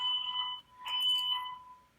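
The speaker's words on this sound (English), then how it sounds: "Are you having a fire alarm?" A fire alarm sounds indoors with steady, piercing electronic tones, loud and continuous across the whole stretch, briefly dipping and then returning without any talk over it.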